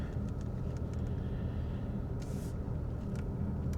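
Steady engine and road rumble from a car driving through the village of Oxton in Nottinghamshire, with traffic passing on a busy country road; continuous low roar with faint hiss and brief swells.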